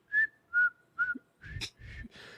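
A voice imitates an aimless, tuneless whistling, with three short level whistled notes followed by a few breathier, wavering whistle sounds, close and alone without other talk.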